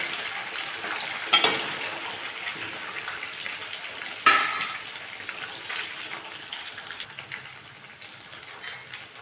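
Idli pieces frying in hot oil for a crisp finish, a soft steady sizzle with two sharper bursts near the start and middle, fading gradually, no talking.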